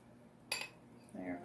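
Utensils clink against dishes as a spoonful of food is plated: one bright metallic clink, followed about half a second later by softer scraping and tapping of the spoon on the plate.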